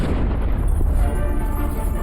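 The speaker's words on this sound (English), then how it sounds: "The universe began with the Big Bang, a shattering explosion of raw energy" Big Bang explosion sound effect, a deep sustained booming rumble that rolls on heavily and loudly, alone.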